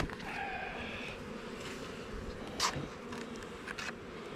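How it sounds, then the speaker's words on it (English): A dense, continuous hum of bees around small young beehives outdoors, with nearer individual insects droning past over the steady swarm. "these hives are just baby hives, is what they are."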